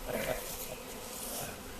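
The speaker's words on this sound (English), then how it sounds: "There's a bit of a knot of bees coming on my hand too" A small knot of honeybees from a swarm being caught by hand, buzzing softly and steadily at close range as a faint hum, with a brief sharp sound near the end.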